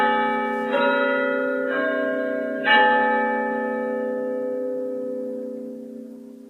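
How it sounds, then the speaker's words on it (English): A loud clock chimes the half hour at 10:30, sounding three resonant bell-like strikes about a second apart, each ringing on with long overtones that slowly fade, with no talk over it. "I think the clock's going to go off."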